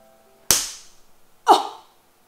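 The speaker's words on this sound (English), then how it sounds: "Why did I hear a snap?" Two sharp cracks, about a second apart, from dalgona sugar candy snapping while it is being kneaded for tapioca pearls, each a crisp isolated snap fading quickly into near silence.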